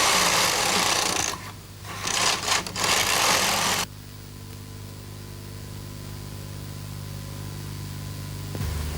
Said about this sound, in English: Continue knitting in this way for several rows.